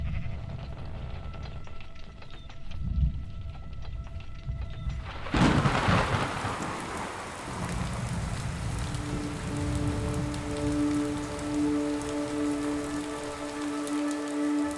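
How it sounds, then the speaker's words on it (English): Rain in Minecraft, a steady wash of falling rain that swells after a rumble of thunder partway through, with sustained musical tones rising later alongside it. "Day 65 was a rainy day, and I could barely see ahead of me."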